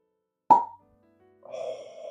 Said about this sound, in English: We're gonna get a little cork pop.